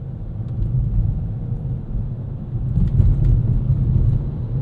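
Loud low-frequency road and tire roar inside the cabin of a 2025 Nissan Kicks SR on a city commute, a steady rumbling drone that swells slightly, with faint rattles and no talking.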